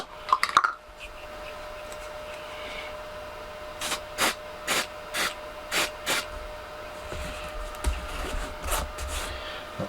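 A spray bottle squirting treatment onto a small shed: a brief clatter, then a regular run of about six short hissing spray bursts, close and fairly quiet, with no talk.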